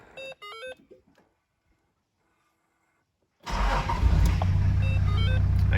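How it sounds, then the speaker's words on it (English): A Toyota 1HZ turbo diesel engine with a turbo kit, cold start: a few dashboard beeps, a short quiet pause, then the engine cranks and catches abruptly into a loud, steady rumbling idle that continues to the end. "today is a fairly cold startup"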